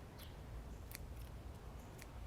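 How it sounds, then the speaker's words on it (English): Cheap dollar-store scissors clip a garden plant, giving a few faint, quick snips against quiet outdoor background noise. "And I can do this in very short order just by having my dollar scissors that I talked about the other day."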